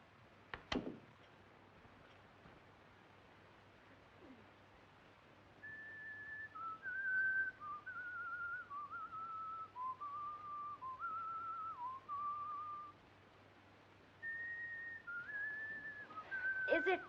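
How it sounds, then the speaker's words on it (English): A man whistles a tune indoors aboard a train, a clear melodic line of sliding notes starting midway, pausing briefly, then resuming, moderately close and alone after a sharp knock at the start. "That tune you are whistling, sir, it is an English tune"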